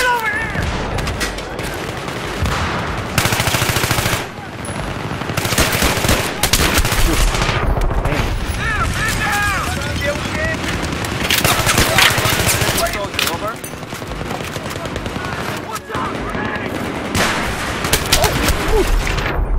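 Suppressed gunfire crackles almost without pause through a video game firefight, with rapid automatic bursts, occasional heavier booms and constant battle noise, loud and close, while players talk over it.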